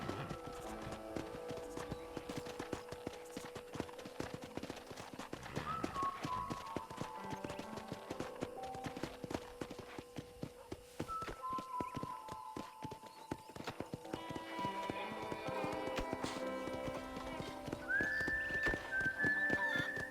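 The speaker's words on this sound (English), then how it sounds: "let's see if you can still ride a horse." Hooves clip-clopping steadily at a gallop with a horse neighing in Red Dead Redemption, over a bed of music and game-like ambience, fairly clear and continuous.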